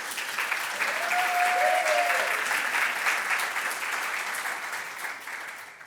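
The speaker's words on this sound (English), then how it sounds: "I would love a huge round of applause for Kat." An evening crowd at an art talk claps warmly, steady applause that swells slightly then fades toward the end, with a faint tonal squeak briefly sliding through the middle.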